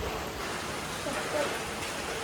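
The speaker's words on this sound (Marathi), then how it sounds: "हे मोबाईल आणि परत आला पाऊस." Monsoon rain falling steadily at Malshej Ghat, a dense, even wash of noise close by and filling the whole stretch, with faint voice traces underneath.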